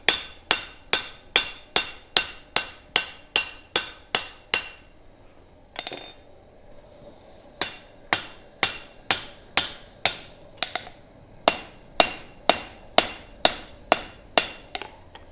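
A hammer forges hot metal beside a gas forge, ringing out in a steady, evenly spaced series of loud, sharp metallic blows, with a short pause partway through before the strikes resume.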